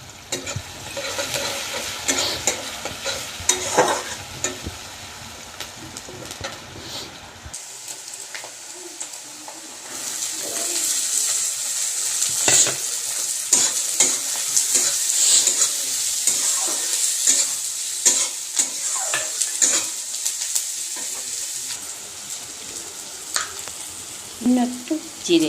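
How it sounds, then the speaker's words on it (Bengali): Vegetables frying in white oil in a wok for pasta, sizzling steadily while being stirred, with repeated scraping and clattering strokes; the sizzle grows louder and brighter partway through and stays close and busy to the end. "তো আমার হয়ে গেছে পাস্তার জন্য সবজি ভাজা।"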